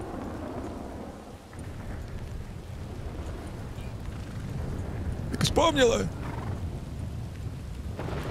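A rumbling thunderclap from lightning in Red Dead Redemption 2 rolls in over steady rain, swelling midway and fading, while people talk over much of it.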